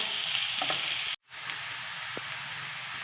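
Grated carrot cooking in a pan for vegetable mince kababs, a bright continuous sizzle close by with light stirring taps, broken by one brief gap before the hiss resumes.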